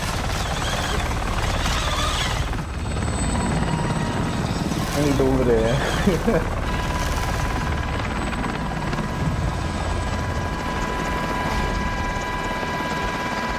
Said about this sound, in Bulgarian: Идва два хеликоптера за мене.